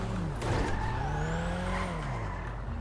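Tires squeal as a car skids in the video game GTA Online, a long rising screech over a steady engine roar, fairly close and continuous, with no talking.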